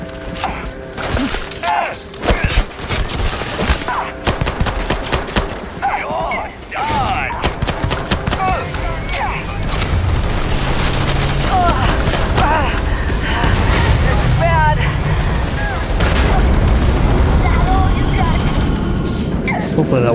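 Gunfire in the space game Starfield, a dense run of shots and mechanical clatter over a steady droning score, with a voice talking at times.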